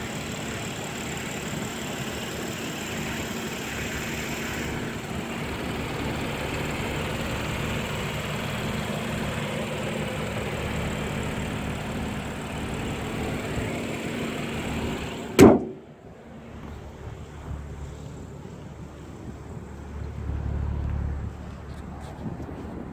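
A BMW M235i idles with its headlights and everything else switched on, a low steady hum with a sharp click near the end, after which the engine noise drops quieter.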